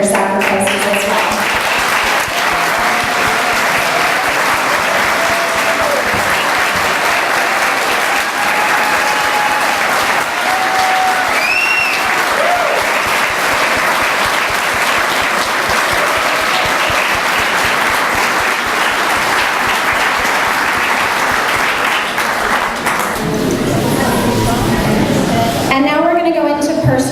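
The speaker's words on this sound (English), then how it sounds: "please stand up for a round of applause" Sustained applause from a standing audience honoring veterans and military members at a fallen heroes memorial event in Connecticut, a dense, steady wash of clapping lasting throughout, with a few voices and whistles mixed in near the end.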